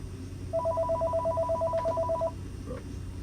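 A telephone rings in a vape and smoke shop, one steady pulsing electronic trill lasting about two seconds, clear over low room noise.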